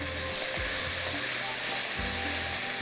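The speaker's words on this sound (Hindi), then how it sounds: "छोटी वाली मिर्चें हैं, थोड़ी सी फ्राई हो जाएंगी।" Small green chillies fry in hot oil, giving a steady, close sizzle and hiss that runs without a break, with faint stirring or scraping underneath.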